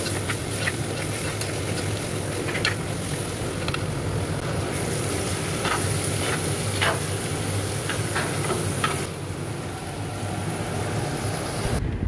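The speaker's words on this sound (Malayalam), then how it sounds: "ഇഞ്ചി, പച്ചമുളക്, തക്കാളി അരിഞ്ഞത്, വേപ്പിലൊക്കെ ഇട്ട് കൊടുത്തിട്ട് നന്നായിട്ടൊന്ന് വാട്ടിയെടുക്കാം" Ginger, green chilli, chopped tomato and curry leaves sautéing in a pan for a squid curry give a steady close sizzle and hiss with occasional scraping stir clicks, no voices.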